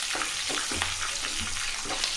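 Green chillies sautéing with chana dal and urad dal in a pan over low heat for a rava idli chutney, giving a steady close sizzle with faint stirring scrapes throughout.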